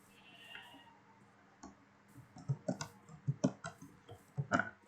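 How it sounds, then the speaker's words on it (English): Sheep bleats from the video game Minecraft, several short cries spaced through the second half over a faint clicking background, moderately loud and close with no talking. "Oh, hello there, Mr. Sheep."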